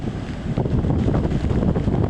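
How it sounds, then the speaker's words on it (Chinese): Typhoon Haikui's gale roars at Fugang fishing harbor in Taitung, a loud, continuous rumble of wind buffeting the microphone and churning surf with no voices. "巨浪不断翻腾"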